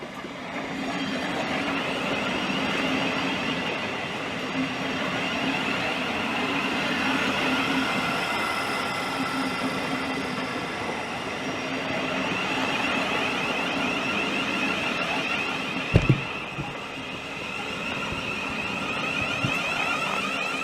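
A Thameslink Class 700 electric train at Swanley station, a steady close rumble and whine of wheels and motors running continuously, with a brief sharp clunk partway through; no talking.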